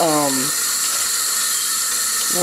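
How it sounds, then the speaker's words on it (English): Running water from a kitchen tap, a loud steady hiss and splash that continues throughout, with a brief voice audible at the start and end. "Sorry that you hear the running water"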